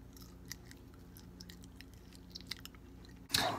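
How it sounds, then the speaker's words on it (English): Quiet, close-up chewing of blueberry pancakes, soft wet mouth sounds and small bites in a steady rhythm, ending in a sudden louder rustle. "I hope you enjoyed that blueberry eating ASMR."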